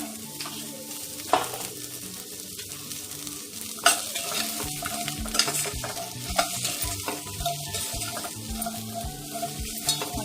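Beetroot stir-fries in a pan for a beetroot coconut pickle, a steady sizzle with the frequent scrape and clink of a spoon stirring, plus a few louder knocks against the pan.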